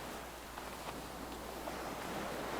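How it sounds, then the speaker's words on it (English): Ocean surf rushes white and bubbly past rocks, a steady broadband wash of water with soft swells and faint wind, continuous and fairly close, with no voices. "The waves are white and bubbly as they rush past."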